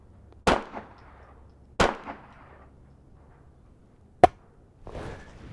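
Sharp, loud shots from a Brownells 10/22 Takedown rifle at a shooting range, several separate cracks a second or more apart, each with a short echo tail.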